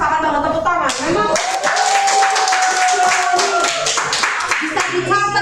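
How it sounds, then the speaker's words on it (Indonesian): An audience claps in applause, a dense burst of many hands that starts after a moment of talk and carries on steadily, close and fairly loud, with a voice speaking over part of it. "tepuk tangan"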